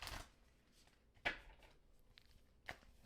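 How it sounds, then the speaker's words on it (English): A tarot card deck being shuffled and cut, heard as a few short, soft papery riffles and taps spread apart, fairly close and quiet, with no talking. "I actually want to shuffle, cut the deck again."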